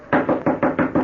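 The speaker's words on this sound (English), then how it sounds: "I knocked on the stable door." Five firm, evenly spaced knocks on a stable door, close and loud with no voices, staged as a sound effect for a 1943 radio horror drama.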